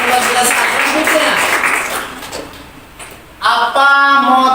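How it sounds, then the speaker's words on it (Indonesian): Students clapping in a classroom after a classmate answers, a brief burst of applause that fades within a couple of seconds before other sounds and voices follow. "terima kasih tepuk tangan"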